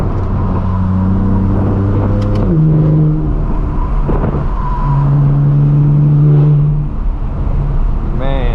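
A BMW M4 F82 with the S55 engine sends a steady exhaust drone while driving on the road, holding a low hum that rises and falls through gear changes, with brief talk over it.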